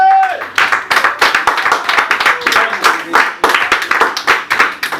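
Church congregation clapping and cheering during a French-language service, irregular bursts of hand claps mixed with voices and shouts, fairly close and lively.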